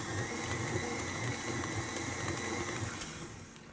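Apple coffee cake batter being mixed with an electric mixer, a steady whirring motor drone close up that runs without pause and fades slightly at the end.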